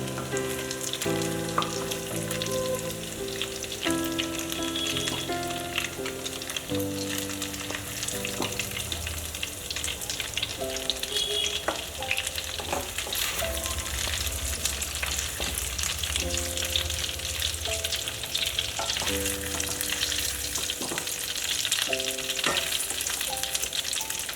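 Pumpkin flower and taro fritters in batter crackle and sizzle steadily in hot oil, a close, dense frying hiss with occasional stirring clinks and no talk.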